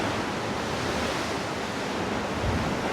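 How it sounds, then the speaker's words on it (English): Ocean waves break at a surf spot in Bali, a loud, continuous roar of churning surf with wind rumble on the microphone and no voices. "Breaking waves coming in here."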